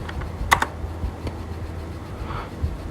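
A few quick computer keyboard key presses, bunched near the start with one lone tap after, as someone replays a rock-paper-scissors program; faint and close over a low steady room hum.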